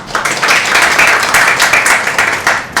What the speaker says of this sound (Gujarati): સો બંને શબ્દો અને કમ્પોઝિશન અને સિંગિંગ બધા માટે તાળીઓ થઈ જાય.